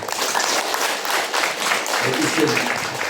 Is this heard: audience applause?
yes